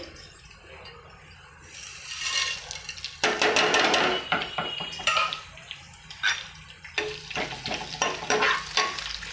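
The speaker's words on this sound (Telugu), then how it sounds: "ఇప్పుడు ఈ పోపు అన్నీ వేస్తున్నాను. ఆయిల్ వేడెక్కింది." Loud crackling sizzle as tempering spices hit hot oil, with scraping stirs and clinks of a utensil against the pan, no voices.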